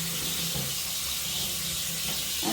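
Hot water runs from a tap into a kitchen sink for hand washing dishes and a brush, a steady hissing stream filling the basin, close and continuous without talk.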